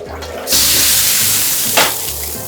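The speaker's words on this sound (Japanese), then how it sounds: "水蒸気の力で吹き飛ばします。" A loud hiss bursts in as steam blasts residue off the bottom of a hot wok, holding steadily for over a second, then a second rush of sizzling steam flares briefly before settling.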